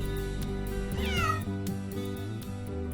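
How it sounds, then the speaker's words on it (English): A mother cat and her kittens, kept in a cardboard box at an animal shelter, meow clearly and close by. One rising and falling call stands out over a steady low hum in the room. "The first cardboard box contains a mother and her 2 kittens, and the second a mum with a litter of 5."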